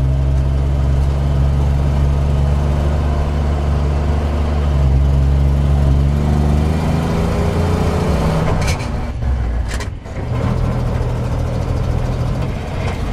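A Volvo TP 21 military vehicle engine idles with a low, heavy rumble, then its tone shifts and dips briefly during a double-clutch gear change before settling back into a steady drone.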